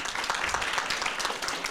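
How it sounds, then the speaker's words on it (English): A crowd at an International School of Kuala Lumpur gathering claps for Aaron, a brief, full burst of applause from many hands, steady and fairly loud throughout. "Can we have a round of applause for Aaron,"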